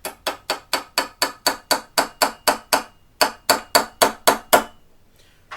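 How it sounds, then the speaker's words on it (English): A steady series of about eighteen sharp hammer taps drives a pin through with a drift while a Timney trigger is fitted to a Remington 700 rifle, close and evenly spaced, with a brief pause before the final blows. "we're just going to drop it in here, drift across our first pin so we have it locked"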